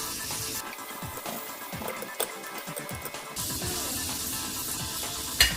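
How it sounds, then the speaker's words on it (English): Butter melting in a pan for a mango flambé gives a steady, close crackling hiss dotted with small pops, with one sharper click near the end. "the butter is completely melted as you can see and making a sizzling sound"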